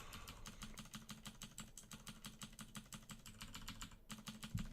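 Rapid, regular clicks of a computer keyboard as one key, Tab, is pressed over and over, close and fairly quiet, with no talk.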